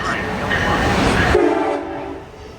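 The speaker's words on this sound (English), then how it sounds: "As the locomotive special passes, it meets an eastbound Northeast Regional led by Acela 64, number 636." An Amtrak locomotive special meets an eastbound Northeast Regional led by ACS-64 electric locomotive number 636 on the Northeast Corridor, a loud close rush of passing trains that drops sharply halfway through, leaving a steadier lower rumble with a tonal whine.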